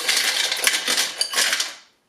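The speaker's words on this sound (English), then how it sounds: "Now I'll use the 40-ounce bowl to test ice." Ice cubes, a little over a cup, tumble into the 40-ounce bowl of a Ninja Kitchen System blender, a loud close clattering rattle lasting under two seconds before going silent.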